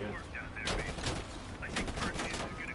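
A minigun fires in the video game Black Ops Cold War, rapid bursts of gunfire that come and go over a few seconds, fairly faint and mixed with background game sounds.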